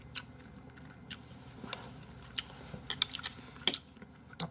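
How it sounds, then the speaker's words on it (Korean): Quiet, sporadic crunching and clicking bites of Chapagetti noodles with something hard in them, with faint utensil clinks scattered over a soft background hum. "딱딱한 게 씹히는데 뭐야 이거?"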